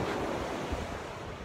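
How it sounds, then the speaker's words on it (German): Ocean surf at a Florida beach roars steadily, with breaking waves mixed with strong wind buffeting the microphone and no voices. "ordentliche Wellen."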